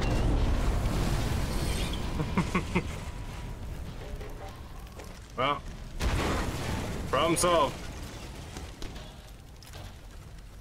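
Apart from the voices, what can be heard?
explosion in Sniper Elite 4 video game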